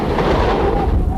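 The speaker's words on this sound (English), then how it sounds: "Gunfire, now all too common in East Timor." Dense, rumbling bursts of gunfire from unrest in East Timor, captured in a news report. The firing is loud and continuous and rolls on through the short stretch without any speech.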